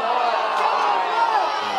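Spectators at a men's college soccer match, FIU against Marshall, let out a broad, steady groaning roar of disappointment that carries on without a break.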